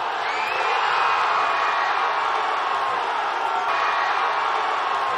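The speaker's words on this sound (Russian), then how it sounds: "Так болельщики встретили гол Артема Дзюбы." Football fans in Kazan cheer Artem Dzyuba's goal for the Russian national team, a loud, continuous crowd roar with scattered whoops that stays strong and unbroken throughout.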